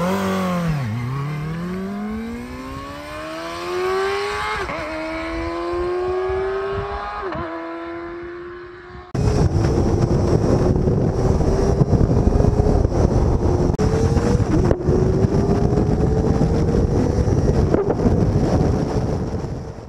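A Kawasaki Ninja ZX-4RR motorcycle being ridden, its high-revving engine climbing steeply through gears with sweeping pitch rises, then a steadier roar mixed with heavy wind rush over the microphone.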